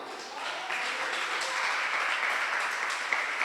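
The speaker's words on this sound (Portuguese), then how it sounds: "Vamos aplaudi-lo?" A church congregation breaks into sustained applause, a dense steady wash of many hands clapping that rises slightly and holds, with a faint voice underneath.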